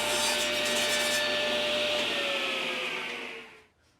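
A saw cuts a wooden board in half with a steady, loud, rasping whine that fades away at the end.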